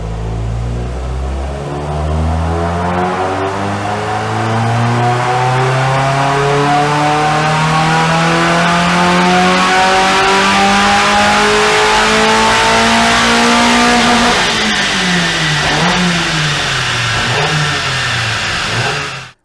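Modified Mazda MX-5 NC engine on a dyno, climbing in a long, loud rev sweep from low to high before easing off and cutting out at the end.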